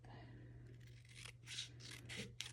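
Scissors snip through a strip of paper being trimmed for the spine of a handmade Christmas booklet, with several short, close cuts over a steady low hum.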